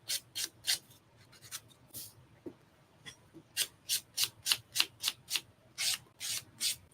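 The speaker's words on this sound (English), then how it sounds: "you buff it from the center of it and downward like this" Nail buffer rubbing over builder gel nails in quick back-and-forth strokes, close and crisp, coming in short bursts that turn into a steady rhythmic run of about a dozen swipes.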